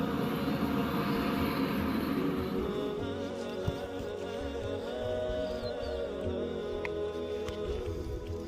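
An airplane at an airport gives a continuous, droning engine roar with a sustained whine. It stays loud and steady throughout, and no voices are heard.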